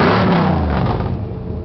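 An old 4x4 truck engine revs loudly up close, a deep throaty roar that climbs and then slowly winds down.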